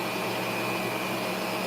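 Vacuum cleaner running a suction test while picking up dirt, heard as a steady, loud motor whine with a constant airflow roar and no breaks.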